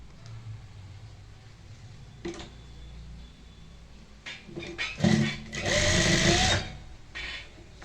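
A sewing machine stitches the folded elastic waistband of a full-circle palazzo. Light clicks and handling come first, then a loud, fast whirring run of stitching lasts about two seconds before stopping.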